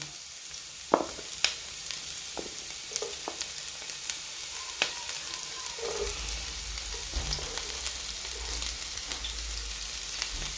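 Carrots and onions sizzle steadily in a pan for a potato and sausage casserole, with sharp utensil clicks and stirring taps early on and a low rumble joining the hiss in the second half.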